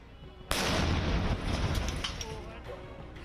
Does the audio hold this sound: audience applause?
no